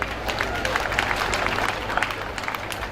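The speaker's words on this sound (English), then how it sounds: "We deserve a round of applause." A convocation audience at UNIMED in Ondo gives a round of applause, a dense sustained clatter of many hands from a large crowd, steady and fairly loud throughout.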